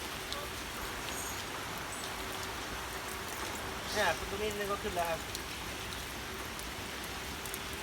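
Steady rain hisses throughout at moderate level, with someone speaking briefly over it partway through.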